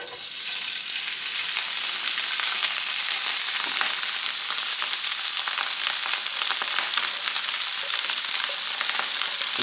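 Rice frying in oil in a pot, a steady bright sizzle with soft stirring scrapes, continuous and close throughout.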